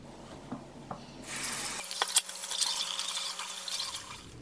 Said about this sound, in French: Maintenant, on va voir si ça se rince bien.